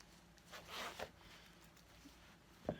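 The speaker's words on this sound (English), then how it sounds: "Nice zipper." A zipper being pulled on a Jordan baby jacket, sized 9 to 12 months: a couple of quiet rasping zips close by, then a brief sharper tug near the end.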